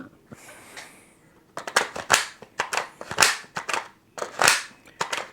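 A Bulgarian commercial-grade magazine is pushed and forced into a Pioneer Arms AK rifle. Close, sharp metallic clacks and rattling clicks come in quick irregular clusters after a soft rustle at the start.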